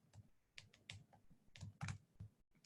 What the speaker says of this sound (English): If you guys could not look while I'm typing, it helps me type better, please.